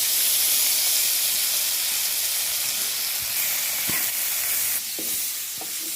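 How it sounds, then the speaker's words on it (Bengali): Mashed cardamom greens (elach shak), salted and mixed with mustard, fry in a pan with a loud, steady close hiss and sizzle, broken by a few soft stirring knocks near the end. "আমি এলাচ শাকটা ভালো করে ভেজে নিই, কিছুটা কমে।"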